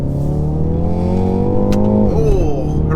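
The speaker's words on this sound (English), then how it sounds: "horrific fake noises coming from the exhaust there" A 2020 BMW X2 M35i sports activity coupe accelerates hard, its engine note climbing steadily through the revs with a loud, buzzy exhaust, then dropping sharply at an upshift before pulling again, heard from inside the cabin.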